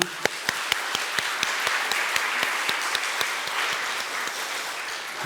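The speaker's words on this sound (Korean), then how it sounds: "우리 아이들을 위해서 한번 격려 박수 한번 하겠습니다." A church congregation applauds steadily for several seconds during a Sunday service, with dense clapping and a few sharper individual claps standing out near the front.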